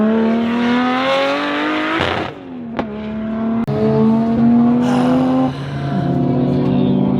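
Nissan R32 GTR track car driving a lap, loud close engine revving up through gears with sharp shift breaks between rising pulls, heard from inside the car.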